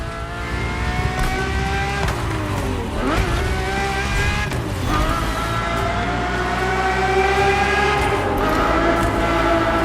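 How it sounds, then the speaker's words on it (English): A Ferrari F50 with its naturally aspirated Formula One-derived V12, driven in The Crew Motorfest, howls loud and steady throughout, pitch sweeping up and down through gear changes, with occasional tire squeal. "The F50's core is a normally aspirated V12 that came straight from a Formula One."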